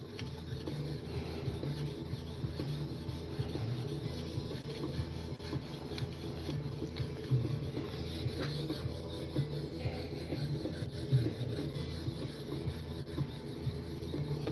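A knife blade is ground on a TSProf sharpening system, giving a steady, continuous close rasping and rubbing that keeps going without pause, with no one talking.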